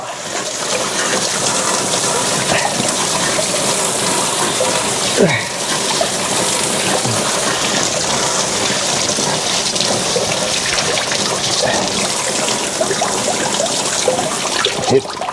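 Water gushes loudly and continuously from a burst domestic pipe, a dense splashing rush that stays strong and close throughout.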